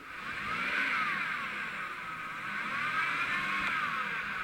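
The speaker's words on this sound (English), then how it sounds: "Well, I can tell by that noise that it's transmission related" A 21-year-old Chevrolet Impala with a faulty automatic transmission revving, a steady engine drone with a rising and falling whine as the revs swell and ease, heard close and alone.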